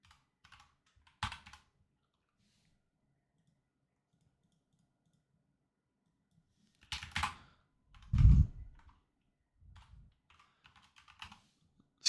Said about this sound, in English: This keyboard is too small.